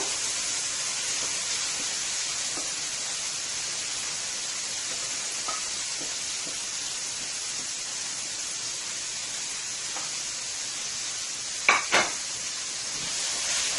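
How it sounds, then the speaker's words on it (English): Masala frying in heated oil in a pan over medium heat for string beans with chicken curry, a steady close hiss and sizzle that runs on, with a couple of sharp clinks of the pan near the end. "you want to fry your masala into your oil for about 4 to 5 minutes on medium heat"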